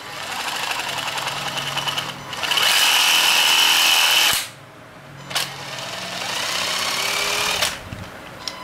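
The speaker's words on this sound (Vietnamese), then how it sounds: "Cái máy bắn vít nó kêu á." A power screwdriver whirs in bursts, a loud high-pitched run, a pause, then a steadier run with brief sharp clicks between.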